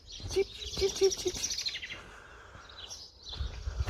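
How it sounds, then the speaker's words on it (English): Birds chirp outdoors during a walk: short, bright tweets repeat in a quick series early on, then fainter calls continue over low rustling and wind noise. "Sorry, I'm really distracted by these birds."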